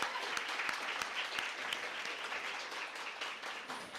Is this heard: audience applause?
yes